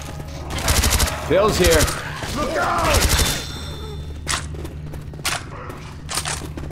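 Automatic weapon fire and shotgun blasts in the zombie shooter Left 4 Dead 2, loud bursts in the first half, then scattered single shots, with character voices shouting over the fighting.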